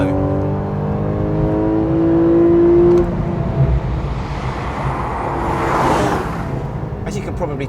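A 424bhp Porsche 911 Carrera 4 GTS engine drones steadily while driving, rising in pitch under acceleration, then easing into a rushing road-and-engine wash as someone talks over it.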